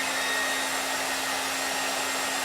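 A steady, loud hair dryer blows continuously with a constant whooshing roar and a faint motor whine.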